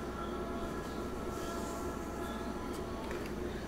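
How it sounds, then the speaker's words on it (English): A loud train rumbles steadily through a Minecraft game world, a dense continuous roar with clattering wheel noise and faint squeals, close by and unbroken throughout. "That train, oh my god, it is loud."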